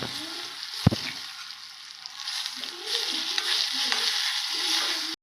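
Dried red chilies, asafoetida and curry leaves temper in hot oil, a sharp knock of a spoon against the pan followed by steady sizzling and bubbling crackle, growing louder and busier toward the end.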